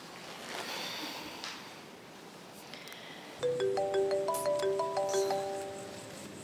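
A phone ringtone plays a repeating electronic melody that starts abruptly partway through and stays loud and close, after quieter background noise.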